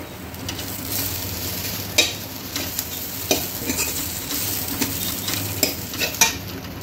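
A spoon stirs roasted grated coconut with fried onion in a hot pan, giving steady loud sizzling with intermittent scraping clinks against the metal.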